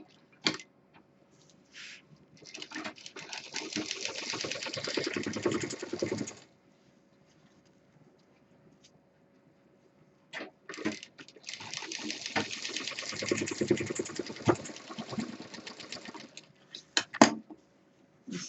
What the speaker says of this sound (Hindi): अब हमें इसको खूब बारीकी के साथ मोड़ के सिल देना है